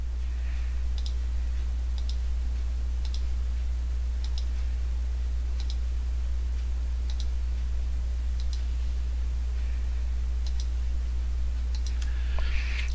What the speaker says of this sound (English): keep clicking and clicking.